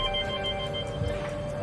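A telephone rings continuously with a steady, sustained electronic tone, moderately loud and heard alone.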